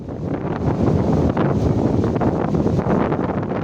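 Strong wind blows at sea off Sabang during high-wave weather, a loud, gusty buffeting rush with brief dips in force and no voices.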